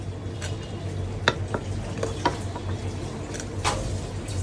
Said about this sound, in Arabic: كمل بقى الرز كله كده في الحله